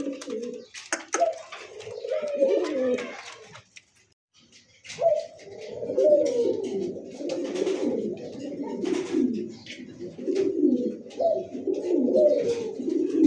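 Large Australian doves coo in repeated low, rolling phrases close by, pausing briefly partway before the cooing resumes and continues steadily.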